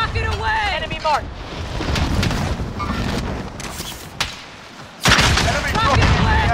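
Rocket launch and gunfire in the shooter game Call of Duty: Modern Warfare, loud bursts and blasts with a sharp onset near the end, mixed with wind and battle noise while voices talk over it.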